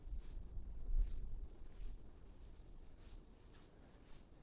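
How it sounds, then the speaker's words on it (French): Wind blows across an open spot beside a pond early in the morning, a low rumbling rush against the microphone that swells and eases in gusts, with nothing else clearly heard. "mais le vent il s'est levé"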